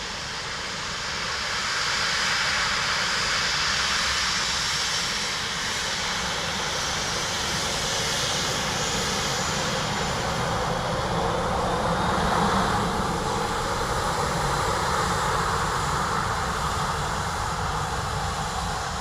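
An airliner landing on runway 28 left at Dublin Airport, a sustained loud jet engine roar that builds early and holds steady, with a faint swell near the middle.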